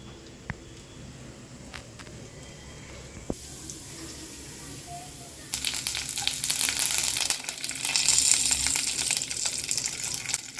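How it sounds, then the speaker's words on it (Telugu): Lentils tossed into a little hot oil for tempering start sizzling halfway through, after a quiet stretch with a few small knocks. The crackling frying is close and fairly loud. "కొద్దిగా ఆయిల్ వేసుకొని పప్పులు అయితే వేశాను"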